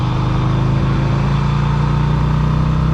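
A 2010 Yamaha V Star 250 motorcycle pulls steadily in fourth gear as the throttle is gently rolled on, a continuous loud, close engine drone with a rising harmonic hum and no talking.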